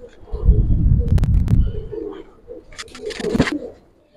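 Palla line Giribaz pigeons coo close and loud as they are released from the loft, deep rolling calls in two bursts, with a voice speaking briefly among them.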